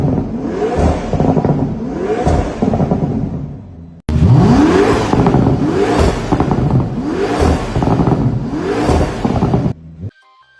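A Toyota GR GT with quad exhaust tips revs loudly and close, with repeated rising engine sweeps in two bursts split by a short gap, then cuts off abruptly.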